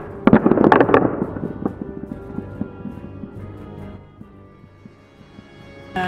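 A spring-loaded elastic band dice thrower fires dice, giving a sharp burst of rattling clatter that settles into a few fading, ringing taps, then a brief knock at the very end.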